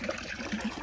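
Water being pumped for cows on a farm in the morning, a soft steady gushing and trickling that stays close and even throughout, with no voices.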